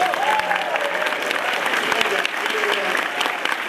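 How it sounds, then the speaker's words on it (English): A comic convention audience at a guest's Q&A breaks into sustained, dense applause, loud and close, with a voice speaking over the clapping. "Big round of applause for you."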